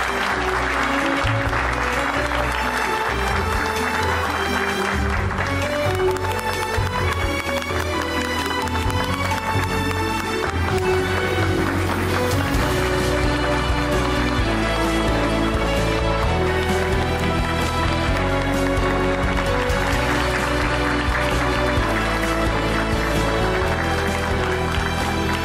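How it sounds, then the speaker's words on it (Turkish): A crowd applauds continuously after a civil wedding ceremony in Turkey, the clapping dense and sustained throughout and mixed with loud music. "Tekrar alkışlıyoruz efendim."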